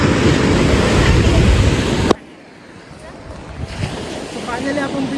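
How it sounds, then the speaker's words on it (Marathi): Ocean waves on a beach roar loudly with heavy wind buffeting the microphone, then cut abruptly to a softer, distant surf wash with faint background voices. "बाकी समुद्र अख्खा बघा तुम्ही."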